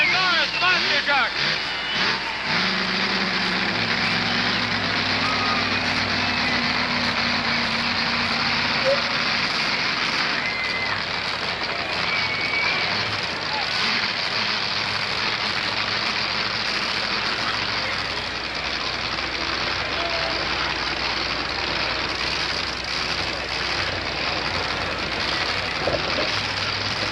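Borus monster truck from St. Joseph roaring through a wheel stand run at a monster truck show, a loud sustained engine drone with revving swells under a crowd and an announcer's voice throughout.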